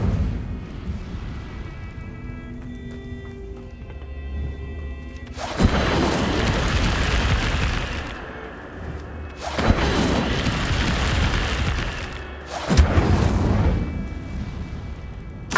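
Fire spell Incendio cast three times in the video game Hogwarts Legacy, each a loud whooshing burst of flame lasting a couple of seconds, separated by quieter ambient stretches.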